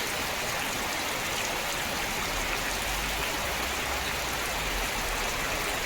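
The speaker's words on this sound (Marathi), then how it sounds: "आज धुवाधार पाऊस" Dense, steady roar of heavy rain pouring down continuously at Chaul, Alibag, loud and enveloping, with no voices.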